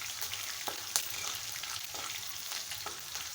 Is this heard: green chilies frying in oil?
yes